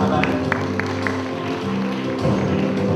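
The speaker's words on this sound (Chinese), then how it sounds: "再次的用掌声来恭喜他们" Audience applause at the 2012 Kaohsiung house creative design competition award ceremony, moderate clapping with a few sharper claps, a continuous murmur of voices and a speaker underneath.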